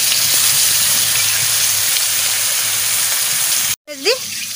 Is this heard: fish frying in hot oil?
yes